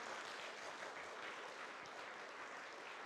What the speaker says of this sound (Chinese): 用热烈的掌声拍手欢迎他